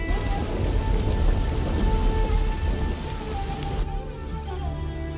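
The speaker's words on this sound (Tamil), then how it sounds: "வெளியில் மழை பயங்கரமாக பெய்கிறதே" Heavy rain pours outside in a dense, loud, unbroken roar of drops that continues the whole time, with a low rumbling undertone.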